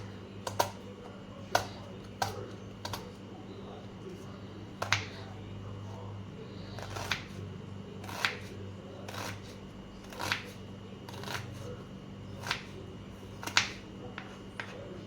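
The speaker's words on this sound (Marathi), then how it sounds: "अशा पद्धतीनं आपण हा कांदा बारीक करून घेऊयात" Knife finely chopping onion into small thin slices on a board for a Marathi dahi dhapate recipe, heard as sharp irregular taps spaced a second or so apart over a low steady background hum.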